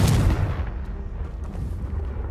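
A Confringo fire blast spell cast in the Hogwarts Legacy video game bursts with a loud, booming impact at the start, then trails off into a rumbling, crackling tail that lasts a couple of seconds.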